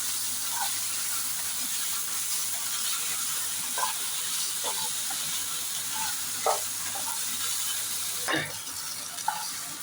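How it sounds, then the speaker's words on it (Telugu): Ginger garlic paste sizzles steadily in a pan for a baby corn paneer curry, a constant close hiss with occasional stirring scrapes and clinks. "బాగా పచ్చి వాసన పోయేంత వరకు వేయించుకోవాలి"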